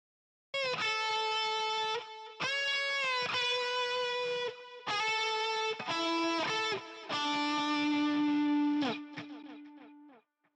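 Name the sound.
guitar with eighth-note delay taps, progressively low-pass filtered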